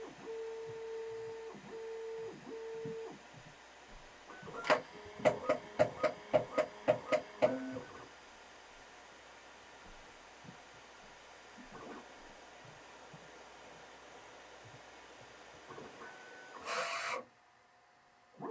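A Bambu Lab P1P 3D printer runs its automatic bed-leveling routine, giving a quick series of sharp mechanical taps with motor whine and a steady hum, then a short louder whir near the end.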